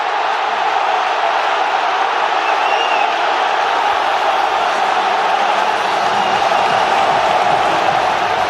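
Football stadium crowd roaring in delirium after a Barcelona equaliser, a dense, sustained wall of cheering and applause filling the whole stretch at high, steady loudness.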